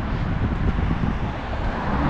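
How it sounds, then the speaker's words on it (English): Street traffic passes by continuously as a dense, even rumble and hiss, with wind noise mixed in and no distinct single vehicle standing out. "Lots of cars."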